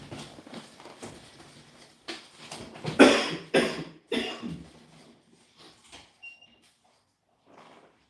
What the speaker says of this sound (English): Whenever I get sick, I get this dry cough